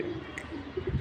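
Pigeons settling on a rooftop give soft, low cooing that rises and falls over about a second, moderately close against faint background hiss; nobody speaks.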